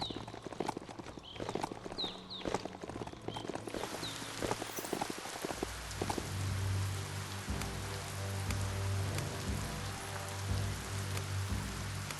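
Rain pattering on surfaces in the video game Biomutant, joined by a steady clip-clop of hooves trotting nearby, with a continuous wet hiss carrying through to the end.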